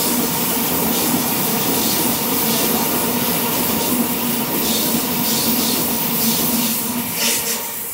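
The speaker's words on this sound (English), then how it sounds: "We have an Oscar passing platform number 2. It is a Newcastle bound train." An Oscar electric passenger train, Newcastle bound, passes platform 2 at North Strathfield with a loud, steady rumble and hiss of wheels and motors. It stays close and continuous throughout.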